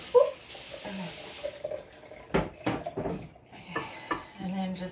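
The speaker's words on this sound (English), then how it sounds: "I'm going to put water" Water poured from a tap into chocolate cupcake batter in a home kitchen, intermittent splashy bursts of flow amid light clinks and handling noises, with a voice talking at moments.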